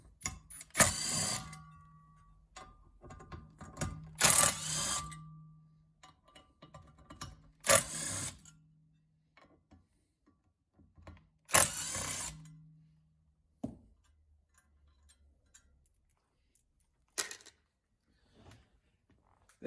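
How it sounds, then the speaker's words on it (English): A Milwaukee impact driver on its lowest setting loosening screws on a Polaris Team secondary clutch, heard as several short, loud rattling bursts separated by quiet pauses. "I'm gonna take the Milwaukee, and I'm just gonna start on level 1, just let it impact on those screws"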